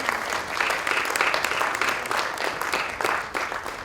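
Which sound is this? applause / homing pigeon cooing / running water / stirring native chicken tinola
applause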